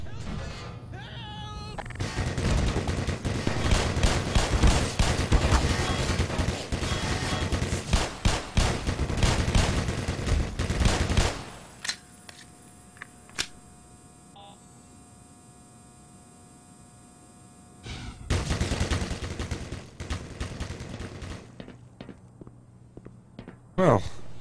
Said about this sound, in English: machine gun kinda almost mowed me down there